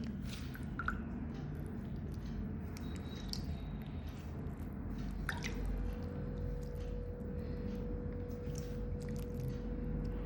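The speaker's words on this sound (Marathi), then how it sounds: "तर पाणी शिंपडते बघा मी ह्याच्यावरती" Water sprinkled by hand over a cocopeat and soil potting mix for indoor plants gives faint, scattered drips and soft wet patters over a steady low background hum, with no talk.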